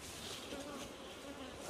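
Bees buzz continuously at close range around a hive in the hills of Jamaica, a soft steady drone with no voice over it.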